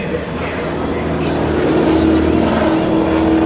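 GEICO Skytypers propeller aircraft perform at a 2009 Joint Services Open House air show, a loud, rising engine drone with a whining tone, swelling in the second half, as a voice speaks over it.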